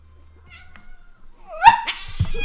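A quiet stretch, then a cat gives a sudden rising meow followed by a second longer, louder meow close by.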